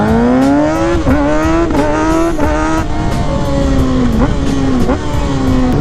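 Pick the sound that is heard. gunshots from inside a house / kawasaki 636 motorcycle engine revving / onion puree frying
kawasaki 636 motorcycle engine revving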